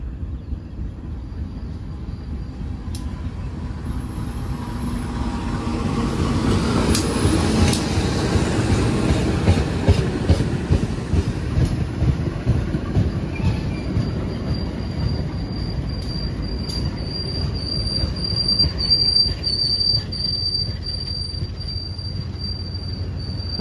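The Perbowangi passenger train rolls into a station steadily, its rumble building and holding, with wheels squealing and a high-pitched tone ringing out near the end.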